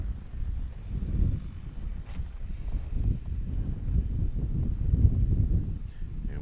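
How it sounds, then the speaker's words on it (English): Wind gusting across an airfield during a STOL aircraft competition in Hartford, Wisconsin, a rumbling buffeting roar on the microphone that rises and falls throughout. "And we got a nice little gust right now."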